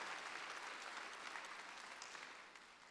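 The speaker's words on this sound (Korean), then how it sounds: "박수." A church congregation claps in steady, dense applause during a Sunday worship service. The clapping sounds full and continuous, then eases off slightly toward the end.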